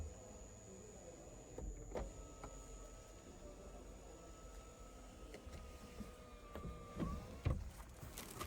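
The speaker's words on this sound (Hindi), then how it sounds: "ये है मून रूफ टिल्ट और स्लाइड फंक्शन के साथ" The moon roof of a 2022 Toyota Camry Hybrid tilts and slides open with a faint electric motor whine inside the quiet cabin. Soft clicks and light knocks from the mechanism come in between.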